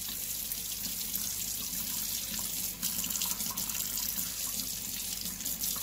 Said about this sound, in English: let's take it in and rinse it off in the sink and see what we made